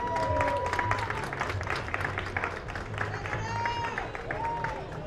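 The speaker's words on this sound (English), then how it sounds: "Let's give her a round of applause." A crowd claps and cheers at an outdoor Puerto Rican flag raising ceremony in Paterson, a dense, moderately loud applause with whoops mixed into the background chatter of people talking.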